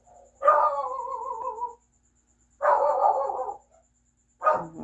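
A dog barks three times, each a drawn-out, tonal, howling bark lasting over a second, with silent gaps between, fairly close and loud, heard alone.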